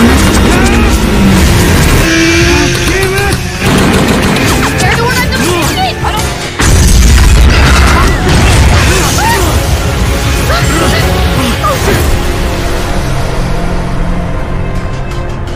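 A film explosion blows up the end of the Tobin bridge during an action chase with a tumbling motorcycle, loud and sustained with crashing impacts and roaring vehicle noise throughout, voices heard over the din.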